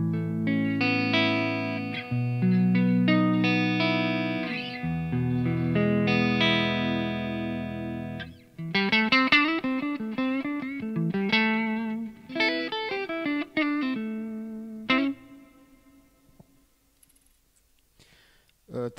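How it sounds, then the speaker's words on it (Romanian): Electric guitar chords strummed with a pick through effects, several ringing chords with distortion and chorus, then quicker picked chord changes that end in a decaying note and near silence. "câteva acorduri cu pana cu care sunt obișnuit, ca să avem un ton de referință"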